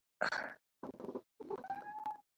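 Domestic cat vocalizing close by in three separate bursts, a rough, throaty meowing and purring murmur with a rising tonal cry in the last burst, heard alone with no talk.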